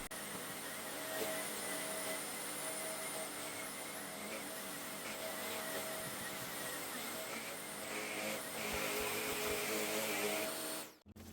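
A vacuum cleaner whines and roars steadily for several seconds, a loud continuous motor hum, before cutting off abruptly at the end.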